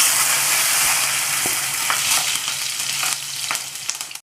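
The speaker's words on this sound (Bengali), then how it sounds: "এখানে আমি ফোড়ন দিচ্ছি। এই যে জিরে, দুটো তেজপাতা, কাঁচা লঙ্কা কটা আর দুটো শুকনো লঙ্কা" Cumin seeds, bay leaves, green chilies and dried red chilies hit hot oil for tempering, making a loud, dense hiss with faint crackles and pops that fades out near the end, with no voices.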